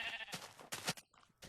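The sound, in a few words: sheep bleating in the video game Minecraft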